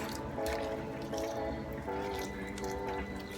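Water is poured into a hot pan of hamburger patties, giving a soft, steady bubbling sizzle with faint repeated drips, quiet and close, with no talking.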